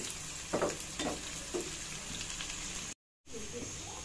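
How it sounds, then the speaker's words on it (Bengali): Two large chopped onions frying in a pan and stirred until golden, a continuous hiss of sizzling oil with a few soft spatula knocks and a brief dropout near the end. "এই তো আমি নেড়ে চেড়ে নিব, আর পেঁয়াজটা গোল্ডেন কালার হওয়া পর্যন্ত অপেক্ষা করব।"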